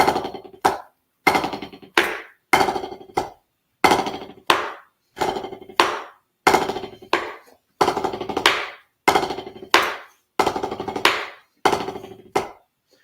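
A drummer plays one-handed nine-stroke rolls: crisp, close stick strikes in quick clustered bursts, repeated at an even pace with short silences between each roll.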